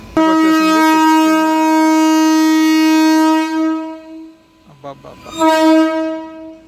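A MEMU passenger train near Nidadavolu Junction sounds a long, loud, steady horn that cuts off, followed by brief rumbling and a second horn blast near the end.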